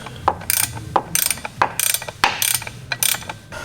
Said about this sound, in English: I'm going to go ahead and unbolt the tail shaft now